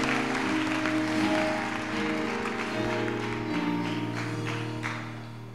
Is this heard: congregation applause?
yes